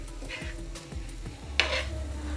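Egg burger stuffing stirred in a hot pan, with a soft sizzle beneath scraping spatula strokes and one sharper knock of the utensil against the pan near the end, close up and without voices.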